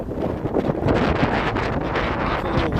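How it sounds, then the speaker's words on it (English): Strong wind buffets the microphone on a hike up Sign Hill, a loud, continuous low rumble with gusty surges and no pauses. "little windy here"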